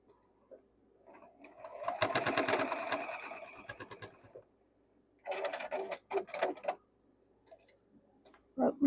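A sewing machine stitches two quilt blocks together in short rapid bursts of ticking, clattering needle strokes separated by quiet pauses, close and fairly soft.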